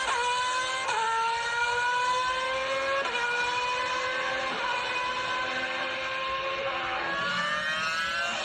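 A race car drives a lap in a racing game, its engine holding a steady high whine that shifts pitch with each gear change, loud and constant throughout with no voices.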